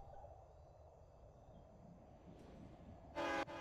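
In the Railway Empire game on Nintendo Switch, a low rumbling rail ambience plays before a locomotive whistle gives one short, loud blast near the end.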